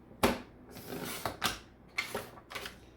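A paper trimmer slicing cardstock into 4x6 mats, giving several short scraping, clicking cuts in an uneven rhythm, close and moderately quiet with no talking.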